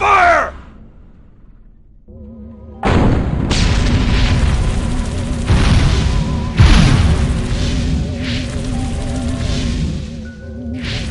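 Gunfire and explosions in the video game Destroy All Humans, with dense sustained blasts and booming impacts after a brief quiet start, loud and continuous to the end.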